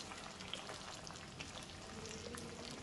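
Eggplant sautés in hot oil in a pan with a faint, continuous crackling sizzle, quiet and steady throughout with no voices.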